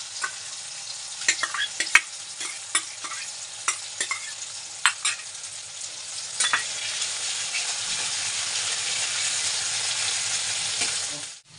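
Chopped tomatoes fry in a pan, a loud continuous sizzle with sharp clicks of a spatula scraping and stirring in the first half, then an even hiss.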